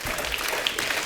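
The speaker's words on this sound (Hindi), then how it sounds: "एक बार जोरदार ताली" A studio audience at a comedy show bursts into dense, continuous applause, a brief loud wash of many hands clapping at close range.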